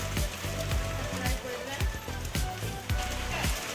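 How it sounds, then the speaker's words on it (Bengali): Heavy rain pours down in a village, a dense, steady hiss of water with spattering drops, while voices talk over the downpour. "অনেক জল পড়তে লেগেছে"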